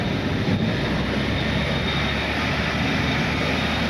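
A vehicle being pulled by a Zacklift tow unit spins its wheels, producing a loud, continuous roar that holds steady from start to finish with no pauses.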